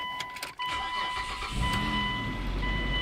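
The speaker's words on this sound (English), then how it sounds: "Let me go ahead and start the car." A Mitsubishi Endeavor engine cranks briefly and catches, then settles into a steady, close idle, with a known ticking noise in the engine.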